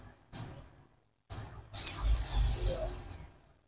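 A sogon ijoan bird, male and female compared, gives two short high chirps followed by a longer, louder burst of rapid twittering, heard close and alone with no talk.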